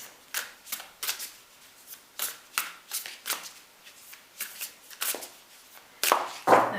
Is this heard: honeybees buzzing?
no